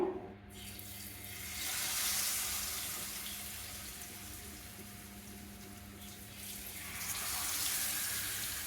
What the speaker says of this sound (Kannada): ಇನ್ನು ನಾವು ಒಂದು ಪ್ಯಾನ್ಗೆ ಆಯಿಲ್ ಹಾಕ್ಕೊಂಡು ಈ ಮಿಕ್ಸ್ ಮಾಡಿಕೊಂಡ ಫಿಶನ್ನು ಹಾಕ್ಕೊಳ್ಳುವ